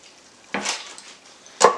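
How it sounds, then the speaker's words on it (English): Excess fat being drained from a pan of cooked meat for tamale pie: two short bursts of sizzling and pouring, about a second apart, with quiet in between. "I have more fat than I want in here, so I'm going to drain off a little bit more"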